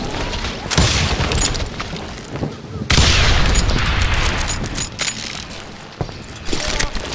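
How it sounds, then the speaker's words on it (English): Bursts of gunfire, including shotgun blasts, echo through a street shootout in the video game Call of Juarez: Gunslinger, loud and crowded with booms and rattling impacts, with voices shouting at times. "They're shooting in the street!"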